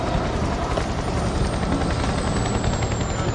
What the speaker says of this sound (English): There are more of these helicopters flying offshore here than anywhere else in the world.